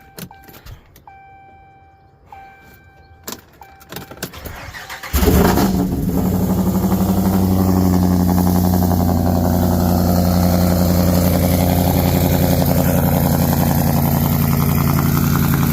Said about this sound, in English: Let's get a cold start in the truck.